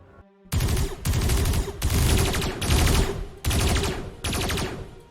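Troops firing point blank into a Titan in a Grimdark Future tabletop battle, loud gunfire sound effect in five long sustained bursts with short gaps, no talking.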